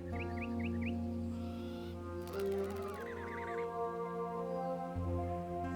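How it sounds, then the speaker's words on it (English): Small creature chirps in the video game Enshrouded: a short run of quick rising tweets near the start and another brief trill mid-clip, set over a steady tonal musical background, no voices. "What is making the little chirpy noises out here?"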